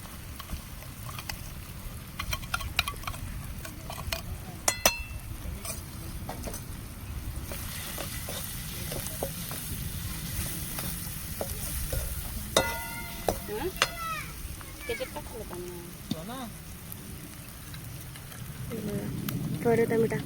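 Maggi noodles with tomato, water and Maggi masala sizzle and bubble in a pan while a spoon stirs and scrapes close by. A voice speaks briefly now and then over the steady frying.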